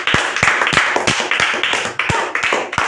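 Children clap for Durga, the winner of a game played by tuition kids, in a string of sharp, fairly close claps in an uneven rhythm that keeps up for several seconds, with no talking.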